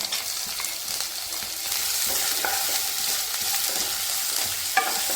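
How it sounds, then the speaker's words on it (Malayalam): Onion added to a pan and frying, with a continuous bright sizzle that swells after a moment, and a few scattered clinks and stirring scrapes heard close up. "നമുക്കിതിലേക്ക് ഒരു സവാള ചേർത്ത് കൊടുക്കാം"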